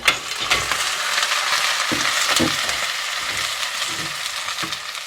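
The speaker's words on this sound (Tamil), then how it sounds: "இந்த நல்லெண்ணெயில் இப்போ நல்லா பொன்னுரமாக எங்களுக்கு வதங்கி வந்துட்டு இதோட நான் வந்து அரை கிலோ நண்டு எடுத்து வச்சிருக்கிறேன் இந்த நண்டையும் சேர்ப்போம்" Half a kilo of crab tipped into sesame oil with browned sautéed onions, sizzling steadily and close by, broken by several sharp stirring clatters and scrapes.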